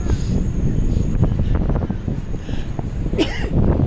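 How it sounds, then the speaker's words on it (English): A sharp, close sneeze bursts out over steady wind rumble and outdoor background noise, a single quick explosive exhale. "I had to get that sneeze out."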